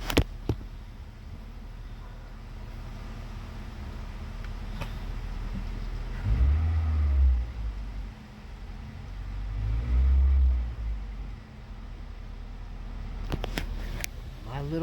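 A repaired go-kart engine idles steadily after a key start, a low continuous rumble with two brief swells of revving partway through, fairly close and with no talk over it.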